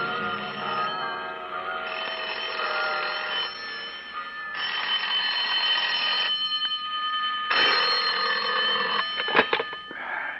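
A telephone rings in an old-time radio detective drama, San Francisco setting: repeated bursts of bright electric ringing separated by short gaps, loud and close, with no talking.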